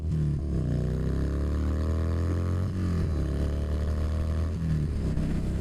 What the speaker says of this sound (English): Yamaha Bolt R-Spec, and this is a fun bike